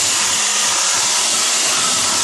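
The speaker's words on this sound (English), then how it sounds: "the first thing I'm going to do is hit it with the vacuum cleaner" A vacuum cleaner drones steadily and loudly while sucking dust off a spray booth, a broadband roaring whoosh with no pauses and no speech.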